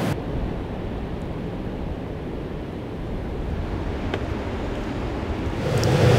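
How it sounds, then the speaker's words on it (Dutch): Ocean waves pound against rocks on the Algarve coast of Portugal in strong wind, a continuous heavy roar of surf and wind noise that swells louder toward the end. "die golven die zo tegen de rotsen aan beuken aan de kust"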